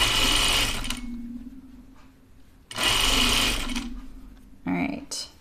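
A sewing machine stitches elastic into the waistband of gym shorts in two loud, steady runs of rapid whirring, separated by a quiet pause, with a short burst at the end.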